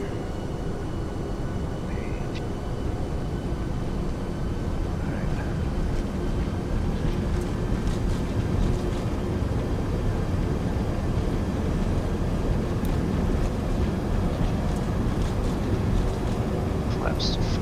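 Airliner in Flight Simulator X on its takeoff roll, a steady, loud engine roar with a faint whine holding constant throughout, while a voice talks over it.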